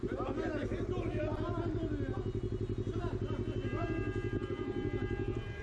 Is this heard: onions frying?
no